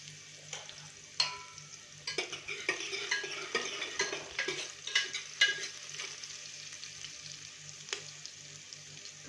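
Ginger-garlic-coriander paste with turmeric sautés in a pan for a village-style mutton curry. Faint, close sizzling sits under irregular scraping and tapping of a spatula against the metal.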